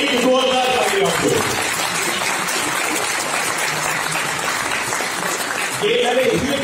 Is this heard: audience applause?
yes